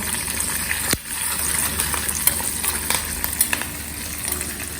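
Tempering for khaman dhokla crackles and sizzles in hot oil in a pan on a gas stove, a steady frying hiss with scattered pops and one sharp clatter early on, close and fairly loud.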